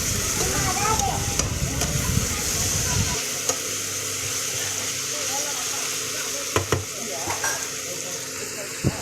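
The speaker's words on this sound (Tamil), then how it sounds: "தக்காளி போட்டு நல்லா வதக்கிடலாம்" Tomatoes sauté in a pan for a home-style bitter gourd kuzhambu, giving a loud, continuous close-up sizzle with occasional stirring clicks and a low rumble that fades after the first few seconds.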